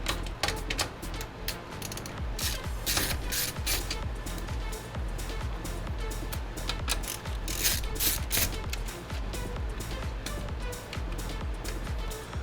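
Screws are backed out of the front of a high-end gaming PC case with rapid ratcheting clicks that run continuously, close and fairly loud, with no talking.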